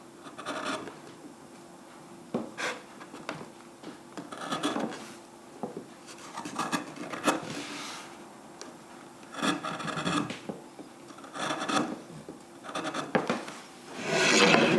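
Blue Spruce chisel plane gliding through wood under light pressure, giving soft rasping shaves in repeated strokes of a second or two, close and alone with no talk.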